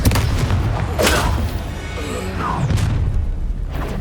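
A spell cast in the Hogwarts Legacy video game lands as a loud booming magical blast with a crashing burst, followed by a second impact and a sustained rumbling swell of combat effects.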